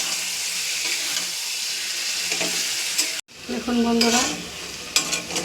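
Fish seasoned with salt, a little sugar and fried spices sizzles loudly in a pan while being stirred close up, with a brief spoken phrase and a short pause in the middle.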